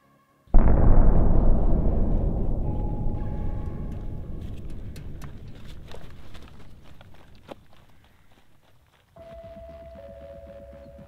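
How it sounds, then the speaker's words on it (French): A single loud, deep film explosion booms out and slowly rumbles away, followed by scattered crackles and a low steady hum as it settles. "Un coup sur deux, les explosions sont provoquées par les Crosshunters"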